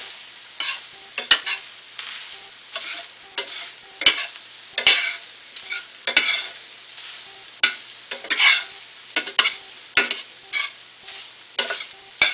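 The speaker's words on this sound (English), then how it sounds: "there's not much to browning, ground beef" Ground beef browning in a pan, with a loud close sizzle and repeated rhythmic stirring and scraping strokes about once a second, each one briefly raising the frying hiss; no voices.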